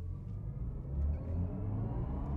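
A BMW i4 M50 electric sedan accelerates hard on an open road, heard from inside as a steady low rumble and whir that swells slightly partway through, with no talking.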